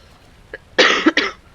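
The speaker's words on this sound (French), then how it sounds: "Le fait que je tousse." A short burst of coughing, two harsh coughs close together after a faint throat sound, close to the microphone with no talking.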